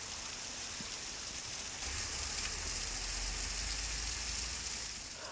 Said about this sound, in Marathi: मुंबईमध्ये मुसळधार पावसाने हजेरी लावली आणि मध्यरात्रीपासूनच मुंबईत पावसाचा जोर वाढलेला आहे